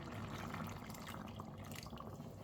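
Water is poured into a pot of red lasagna sauce made with tomato paste. A soft, continuous splashing runs quietly throughout.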